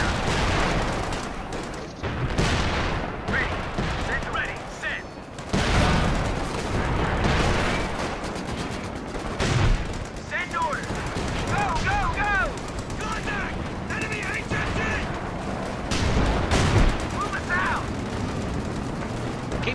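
Artillery blasts and rattling gunfire from a Company of Heroes 2 battle, with repeated broadband bursts and booms running throughout under steady talk.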